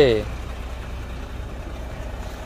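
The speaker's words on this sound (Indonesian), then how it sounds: "mesin berkapasitas 6 silinder 7545 cc" A Mitsubishi Fuso Fighter FM 65 truck with a six-cylinder 7545 cc diesel engine idles steadily, a low continuous rumble throughout after a brief voice at the start.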